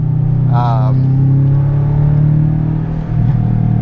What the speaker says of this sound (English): it sounds really good for a cheap eBay exhaust